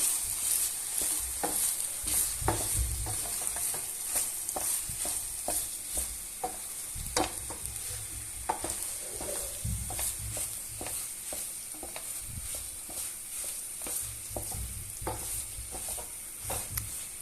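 Boiled wheat being roasted in a pan for bulgur pilaf gives a soft continuous sizzle broken by repeated scraping stirs, irregular and close, with no voices.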